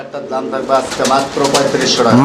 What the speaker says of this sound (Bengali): আমরা এই মুহূর্তে দেখতে পাচ্ছি এখানে আরও এক জোড়া কবুতর আছে